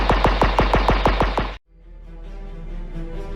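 Rapid automatic gunfire with recoil in a Unity game demo: about ten evenly spaced loud shots in a fast rhythm, then an abrupt cutoff into a low fading rumble and hum.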